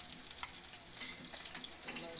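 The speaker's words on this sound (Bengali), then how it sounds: "এখানে ভেজে দিচ্ছি" Bata fish frying in oil in a pan, a steady close crackling sizzle with small spits and pops running evenly through the whole short stretch.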